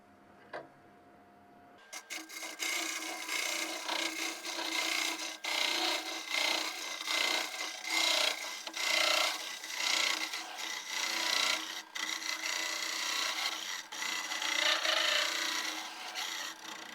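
Steady raspy sanding of wood, a continuous scratchy rubbing that starts after a short pause and keeps going at close range with small surges.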